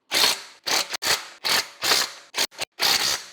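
Lug bolts on a BMW wheel being run down with a ratchet or wrench, about eight quick mechanical bursts of whirring and clicking separated by short pauses, close and clear.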